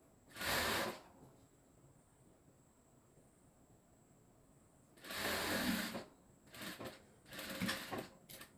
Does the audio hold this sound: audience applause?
no